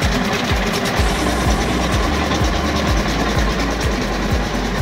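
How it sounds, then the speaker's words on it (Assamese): A sugarcane crushing machine runs steadily for jaggery making, a loud continuous engine drone with a regular knocking pulse throughout, no talk over it. "আমাৰ মেচিন চলি আছে"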